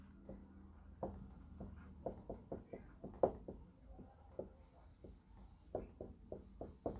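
Pen on paper jotting down the given values of a Class X maths problem, a quiet run of short close scratches and taps in uneven bursts, with no speech.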